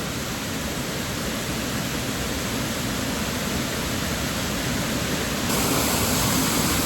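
Snow Creek Falls heard from the middle of the waterfall, a loud unbroken roar of falling water that holds steady throughout and briefly grows louder near the end.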